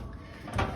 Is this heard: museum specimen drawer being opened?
yes